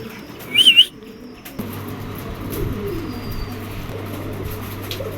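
A white racing pigeon flutters and shifts around restlessly, close by, giving short soft flaps and scuffles. A brief chirp stands out at the start and a low steady hum sits underneath.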